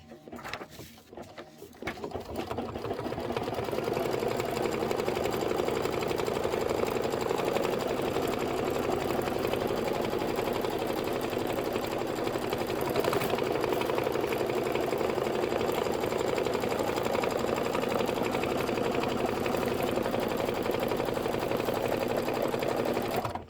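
An embroidery sewing machine runs steadily, stitching a card tack-down line on fabric in a fast, even mechanical whir that starts after a brief pause and holds at constant loudness, close and alone.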